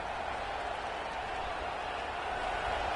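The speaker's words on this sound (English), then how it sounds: "This crowd bringing the energy and noise early" A dense, steady roar of a stadium crowd at an NCAA college football game fills the background, loud and continuous, with a broadcast voice speaking over it.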